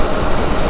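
A loud, noisy truck passes close by on a road during a cool, clear day after rain, filling the clip with a steady, broad rumble and roar from start to end.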